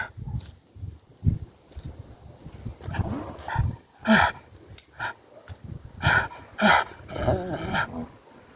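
A dog barks, growls and yips close by in a series of short, uneven bursts spaced a second or so apart, with whimpering sounds between, heard alone without talk.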